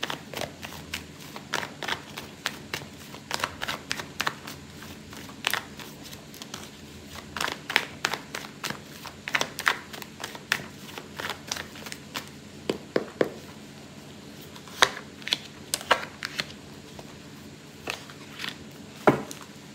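Tarot cards being shuffled by hand, soft crisp riffles and taps scattered unevenly across a quiet room, close and faint.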